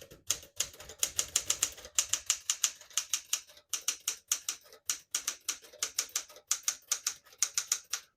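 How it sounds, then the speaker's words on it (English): A 1966 Smith-Corona Sterling portable typewriter clatters with rapid, sharp keystrokes in uneven bursts, close and crisp, with brief pauses between runs. "Beautiful typing machine."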